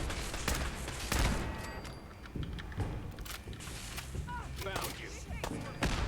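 Rapid bursts of gunfire from a gun in the video game Fallout 4, with repeated loud sharp shots in clusters across the stretch, and a player's voice briefly speaking over the shooting.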